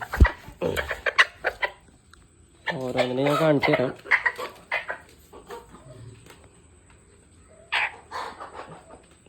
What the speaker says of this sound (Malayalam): അടുത്ത് നമുക്ക് ഈ ഒരു കളർ കോഴിയാണുള്ളത്.